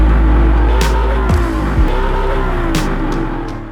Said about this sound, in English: On the track, the new 911 displayed exemplary performance as it accelerated quickly on demand while making a great soundtrack